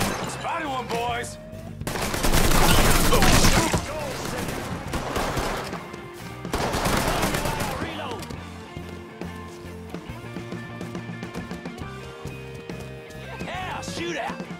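Gunfire in the video game Mafia III, with heavy bursts of shooting swelling loud twice amid a busy mix of game sound, while voices talk throughout.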